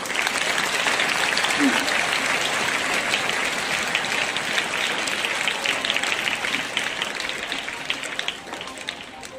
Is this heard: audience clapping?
yes